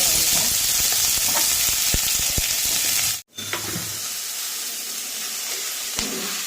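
Chopped capsicum sizzles in hot oil with spluttering mustard seeds and curry leaves, a steady close frying hiss with occasional pops, briefly cut off midway and then resuming.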